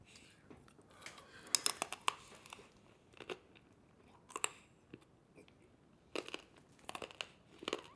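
Loud, close crunching and chewing of food comes in irregular bursts of sharp crisp bites separated by short quiet gaps, with no talking.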